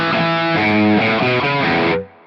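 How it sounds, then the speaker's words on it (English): A GTRS electric guitar running its built-in multi-effects processor on a rock distortion setting, with no amp: thick, saturated sustained chords in a few changes, loud and upfront, cutting off near the end. "And then I have the next one's more distortion,"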